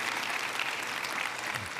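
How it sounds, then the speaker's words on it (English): A conference audience at a tech event claps together in a dense, even round of applause that stays steady and fairly distant throughout the short stretch, with no speech over it. "I could actually look at a round of applause for these values."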